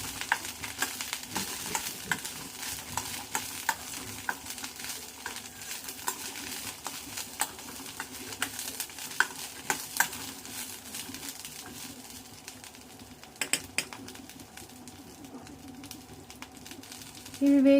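Corn kernels frying in a pan while being stirred, a continuous soft sizzle with scraping and light tapping of the spoon throughout, close and moderately quiet, with a short louder clatter near the end.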